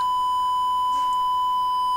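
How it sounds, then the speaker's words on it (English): A loud, steady electronic beep from a Chip-8 interpreter's audio output holds one pure pitch for about two seconds without wavering. "Ooh, that's a beep."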